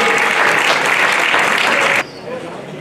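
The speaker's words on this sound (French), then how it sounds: "Je vous demande d'applaudir le podium." Loud, close crowd applause at a running race podium ceremony, a dense burst of many hands clapping that cuts off abruptly, leaving quieter crowd murmur.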